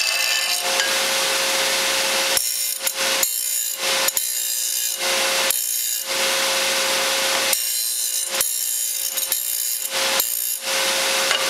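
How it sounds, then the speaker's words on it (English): An inside deburring tool scrapes around the edge of metal stock during fabrication of a spill can, in repeated close, harsh rasping strokes separated by short pauses. "Quick deburr on the inside."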